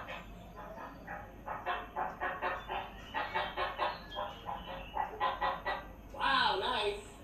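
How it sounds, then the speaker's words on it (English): A chicken clucks in a quick, steady run of short, throaty pulses that stops and restarts, then ends in a louder squawk. The sound is fairly close over a low rumbling background. "a chicken appears."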